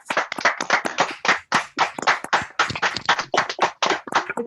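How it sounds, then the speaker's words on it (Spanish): A small audience claps at the close of a talk on depression: a sparse, uneven patter of individual hand claps, close and distinct, with no voices. "Les pido por favor que le demos un nuevo aplauso a Mari Carmen"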